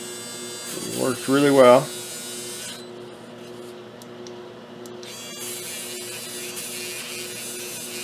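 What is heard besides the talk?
small Dremel with wire wheel cleaning brake port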